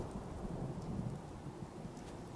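Steady rain pours in the Fallout 4 video game with a low rumbling roll of thunder beneath it, a dense continuous wash with no pauses, fairly quiet, no talking.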